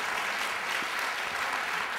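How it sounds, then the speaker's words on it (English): A conference audience at a health keynote gives a big round of applause for a speaker, a continuous, full wash of clapping that stays loud and steady from start to finish. "maybe big round of applause for him"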